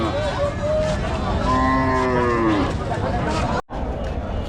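Cattle low loudly with a long, drawn-out moo over the busy murmur and clatter of a crowded cattle market in the evening.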